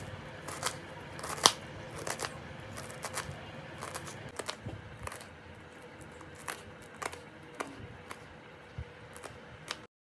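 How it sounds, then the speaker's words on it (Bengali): Cabbage chopped into small pieces for pakora, a steady run of close crisp knife cuts against a board with irregular rhythm, sharper clicks scattered throughout, no voices. "প্রথমে আমি পাতাকপিটাকে এভাবে ছোটো ছোটো করে কেটে নেব।"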